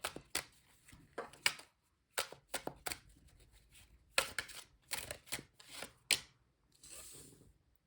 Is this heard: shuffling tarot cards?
yes